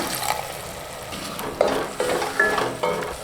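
Drumsticks (moringa pods) sizzling and frying in a pan for green gram kulambu, with a spoon scraping and stirring in a few irregular strokes, close up.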